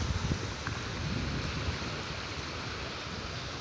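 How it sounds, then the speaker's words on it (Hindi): A fast-flowing river rushes in the Dalma hills, a dense, steady roar of water heard close and alone with no pauses. "जो जल की धारा है काफ़ी तेज़ है"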